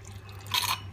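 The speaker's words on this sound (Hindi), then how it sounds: "थोड़ा सा इसमें पहले पानी डालेंगे" Water poured into a blender jar while making grape juice, a short close splash and trickle lasting under a second over a steady low hum.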